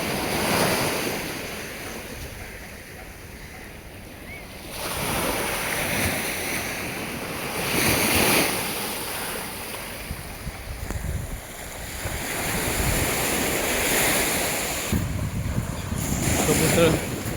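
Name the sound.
sea waves breaking on the shore at Dadar Chowpatty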